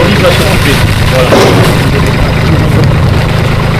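A wood chipper with a hydraulic feeder runs in scrubland, its engine a loud continuous low rumble with a steady grinding texture throughout.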